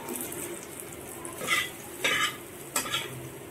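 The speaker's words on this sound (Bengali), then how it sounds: "এরপর আমরা এগুলিকে অল্প সময়ের জন্য কষিয়ে নেব মশলাগুলি দিয়ে।" Tomatoes and green chillies fry with ground cumin, coriander and turmeric in a pan. Three brief spatula scrapes stand out over a soft, steady background sizzle, close by and without speech.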